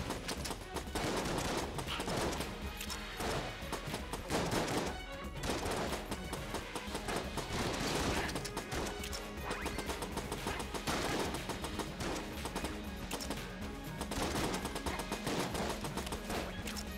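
Rapid bursts of gunfire and bullet sounds from the video game Enter the Gungeon rattle in dense, repeated volleys over game music, loud and nearly continuous.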